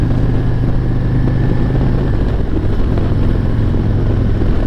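A 2021 Harley-Davidson Road Glide CVO touring cruiser rides in fourth gear at about 45 mph, its engine a steady, loud, continuous low drone mixed with road and wind rush throughout.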